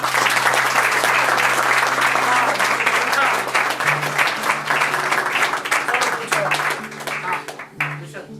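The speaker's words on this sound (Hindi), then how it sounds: "ताली कौन बजाएगा फिर?" Audience at a question-and-answer session breaking into loud, dense applause that continues steadily, then thins and fades toward the end as a voice begins to speak underneath.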